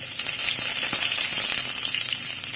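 Garlic and ginger frying in hot oil with popping mustard seeds in a pan, a steady close hiss of sizzling with scattered crackles, heard alone with no talk.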